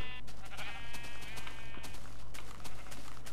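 Sheep bleat on a farm in a video game, with a wavering, layered bleat over a constant low hum and a run of rapid soft tapping clicks that carries on throughout.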